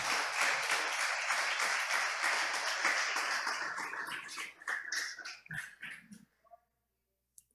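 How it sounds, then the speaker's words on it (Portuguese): A church congregation applauds after a prayer, with dense, loud clapping from many hands that thins into scattered claps and stops, leaving near silence. "Vamos aplaudir Jesus?"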